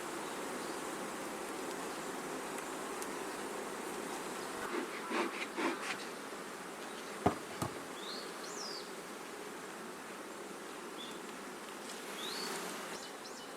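Honeybees buzz steadily around an open hive on abandoned land in Japan during super installation, a close, continuous drone with a few louder passes near the middle and occasional faint knocks.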